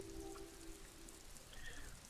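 Rain in the video game Disco Elysium, a steady soft patter of drops on surfaces that stays even and fairly quiet throughout, with a faint low tonal hum underneath and no voices.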